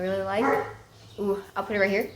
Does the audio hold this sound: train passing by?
no